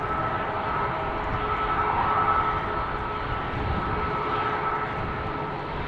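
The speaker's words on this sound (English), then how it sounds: "I'm counting 7 airplanes coming this way already" Jet airliners taxi between Center and Polderbaan at Amsterdam Schiphol Airport, a steady broad engine roar held at moderate distance throughout, and no one talks.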